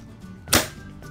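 A single suppressed shot from an upgraded E&C L96 airsoft sniper rifle, one short muffled crack with a soft burst of air, close and standing alone against a quiet room.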